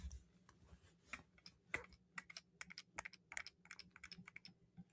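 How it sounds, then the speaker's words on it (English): Rapid, irregular little clicks and ticks close by as a doll's sleep eyes open and close, clustered in quick bursts with brief pauses, crisp and dry against a quiet background. "That is the sound of this kit doll's eyes opening and closing."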